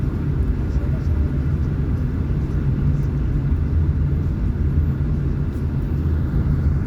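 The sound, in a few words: road traffic in Banilad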